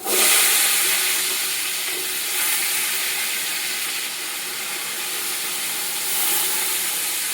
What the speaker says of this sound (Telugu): తర్వాత ఆనియన్స్ వేసేస్తున్నాను